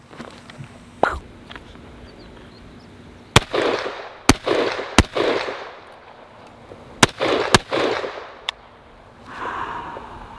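Rifle shots from a 45-70 Government and a .450 Bushmaster fired outdoors: several sharp, loud cracks spaced a second or so apart, each followed by a brief echoing tail, with quiet gaps between.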